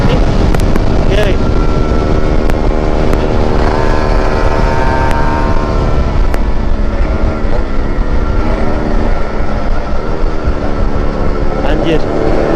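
A Kawasaki Ninja motorcycle engine while riding on a long-distance road trip, a loud, steady droning whine with rising and falling pitch under heavy wind noise, with a voice talking over it.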